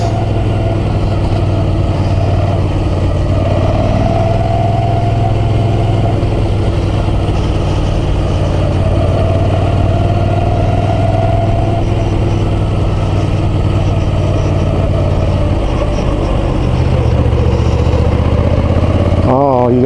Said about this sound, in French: Ah, il est agréable ce moteur,